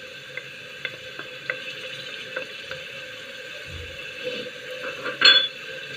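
Button mushrooms frying in a pan, heard as a steady low sizzle with light, intermittent taps and scrapes of a stirring utensil, close up and without talk.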